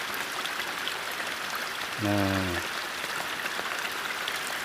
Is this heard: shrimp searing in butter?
no